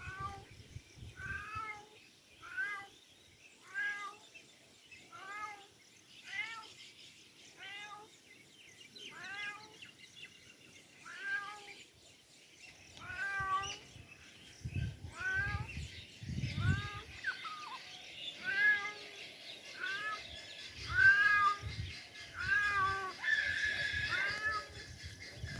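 A house cat at a village home in the morning meows repeatedly, about a dozen clear, evenly spaced calls close by, then softer, more scattered mews among quiet rustling.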